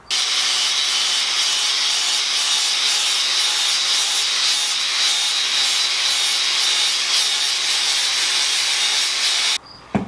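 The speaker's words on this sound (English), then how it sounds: "So the next thing I'll do is I will just sand off the excess on here," Steady, close abrasive rasp of sanding excess epoxy off wood, a continuous hissing scrape that runs unbroken for about ten seconds before stopping abruptly.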